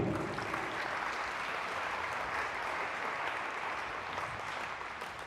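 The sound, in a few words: congregation applauding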